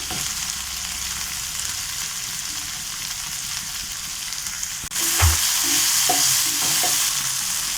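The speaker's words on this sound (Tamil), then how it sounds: "பூண்டு, இஞ்சி, பூண்டு எல்லாமே போட்டு நம்ம வதக்கிக்கலாம்." Garlic and ginger sauté in hot oil in a pan for roadside-style salna, with a steady loud sizzle throughout and a burst of spatula stirring and scraping near the end.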